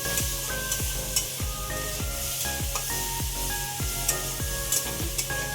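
Food fries in a small amount of oil in a pan, giving a continuous bright sizzle with faint stirring scrapes, heard close up beneath steady background music.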